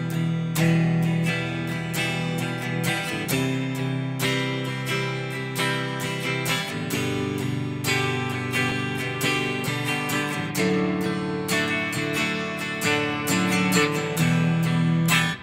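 An acoustic guitar strums a chord progression, a full and steady rhythm with chord changes every few seconds, played alone and fairly loud.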